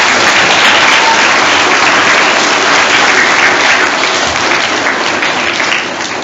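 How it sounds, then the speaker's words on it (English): Dense audience applause for a group of ladies, with children and adults clapping together in a parish gathering; steady, close and continuous, tapering slightly at the very end. "a big round of applause for our ladies"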